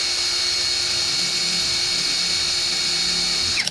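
An APR AP84+ impact wrench runs at a steady high-pitched whine, loud and close, holding constant before a short change in pitch and a sharp stop at the end, with no voices.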